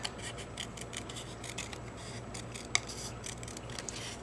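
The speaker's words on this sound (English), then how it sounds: "Then I'll take my scissors" Scissors snip through card stock for a handmade greeting card, a rapid run of crisp, close cuts in a steady rhythm, with one sharper snap midway.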